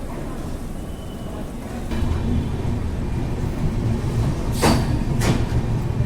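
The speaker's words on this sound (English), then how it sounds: "the train has departed" Low, steady rumble of the Golden Temple Mail train departing Amritsar Junction, growing slightly louder partway through, with a couple of brief sharp squeaks or clanks near the end.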